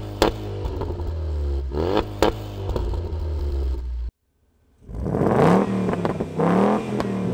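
A Ford Mustang 2.3-liter EcoBoost high performance four-cylinder engine revs in short blips over a steady idle, cuts to near silence briefly, then revs again with rising pulls, close and alone.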